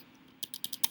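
Keys clatter on a computer keyboard in a quick irregular burst of close, crisp clicks, starting after a short quiet pause.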